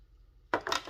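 A small screw drops onto a hard surface during carburetor installation on a 43cc power auger, giving a brief, faint metallic clatter with a couple of quick bounces after near silence.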